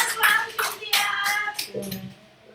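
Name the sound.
applause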